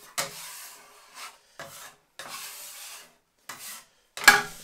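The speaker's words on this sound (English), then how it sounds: "using a metal scraper, we can scrape all the flour into our pot." Metal bench scraper dragging flour across a wooden table into a pot, heard as several separate rasping scrapes of varying length with short pauses between, close up and alone.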